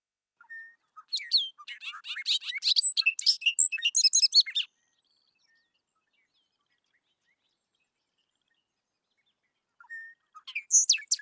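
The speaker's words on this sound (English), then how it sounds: "here is a song of the bobolink." Bobolink song: a rapid, bubbling jumble of tinkling, metallic notes lasting several seconds, followed by a long silence and then the start of another burst, clear and alone.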